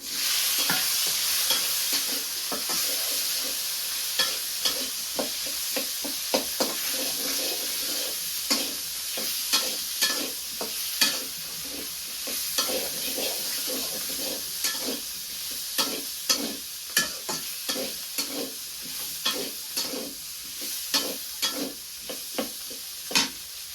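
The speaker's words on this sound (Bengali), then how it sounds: "আমি তরকারি রান্না করার জন্য কড়াইতে তেল পেঁয়াজ দিয়ে দিছি" Onion fries in hot oil in a wok, a constant bright sizzle broken by many repeated scraping stirs that come in quick irregular bursts, close and loud throughout.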